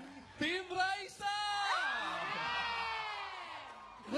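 A concert crowd at a We Love Disney show whoops and cheers for a team, the shouting swelling loudly and holding as one sustained roar, with voices calling out over it.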